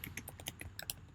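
Quick, light keystrokes tap out a short burst on a computer keyboard, about ten crisp clicks in a little over a second, faint and close.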